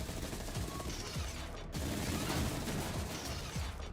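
Sustained minigun fire in a video game tournament match, a dense continuous roar of rapid shots with repeated low booming thumps, loud and steady throughout.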